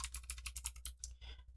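Fingers type quickly on a computer keyboard, a close run of light, rapid key clicks lasting under two seconds with no talking.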